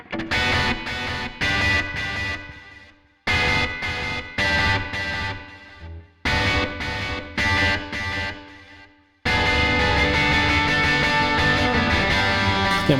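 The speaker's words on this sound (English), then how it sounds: "it comes in with this really cool time delay part that repeats the kind of stabbed parts that I play." Stabbed electric guitar chords through a Mooer GE150Max time delay, short bursts echoing in repeating groups separated by brief gaps before settling into a sustained wash of sound, loud and close.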